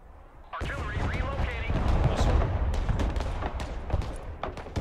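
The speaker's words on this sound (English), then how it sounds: "Artillery." Artillery fire in the battle game Broken Arrow, with a heavy booming barrage starting abruptly and continuing as dense rumbling blasts and sharp cracks, loud and close, mixed with voiced unit callouts.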